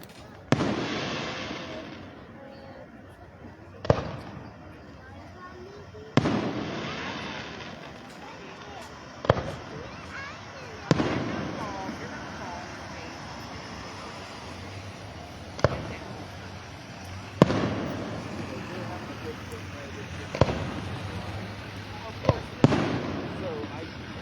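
Fireworks bursting at night over a river festival in Lockport, Pennsylvania, with about nine sharp booming reports spaced a few seconds apart, each trailing into a rolling echo over steady crowd noise, with people talking nearby.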